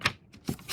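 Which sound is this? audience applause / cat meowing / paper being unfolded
paper being unfolded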